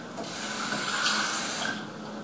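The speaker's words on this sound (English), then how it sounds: "I'm just going to add a little bit of water" Water running from a tap into a container while making pink puff pastries, a steady close splashing fill lasting a couple of seconds and then easing off, no voices.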